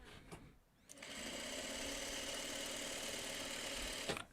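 A sewing machine stitching a quilt block runs in one steady, close, continuous burst for about three seconds, following a short clatter of handling.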